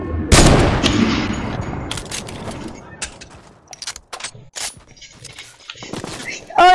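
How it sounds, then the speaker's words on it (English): Minigun fire in the video game Fortnite: a loud, dense burst of rapid gunfire up front, followed by scattered sharper shots and clanks that thin out and fade. "Oh no, he has a minigun."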